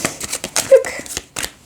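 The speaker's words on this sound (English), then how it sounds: "And one more shuffle." A deck of tarot cards being shuffled by hand, several quick riffling bursts of papery slaps and flutters at close range, with faint talk.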